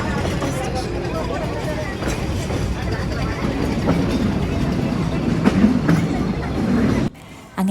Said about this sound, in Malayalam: അങ്ങനെ പിന്നെ കുറച്ച് ടൈം കണ്ടപ്പോൾ വീണ്ടും ട്രെയിൻ മൂവ് ചെയ്യാൻ വേണ്ടി തുടങ്ങി